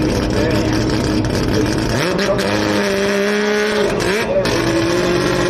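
A drag racing car at a drag strip doing a high-RPM burnout: a loud, sustained engine roar whose pitch rises and falls as the revs change, with a crowd or announcer voice mixed in the background.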